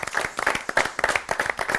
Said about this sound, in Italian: Per dare un applauso, un po' di vita.